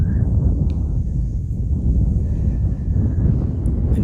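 Strong wind buffeting a microphone outdoors in grassy farm country near sugarcane fields, a constant loud low roar and rumble filling the whole stretch.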